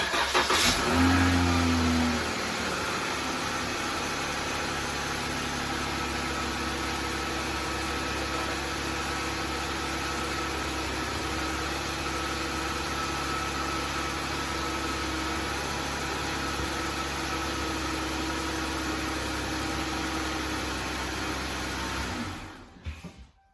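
A 2014 Dodge Charger engine cranks and catches, then settles into a steady idle that runs on alone for about twenty seconds before cutting off.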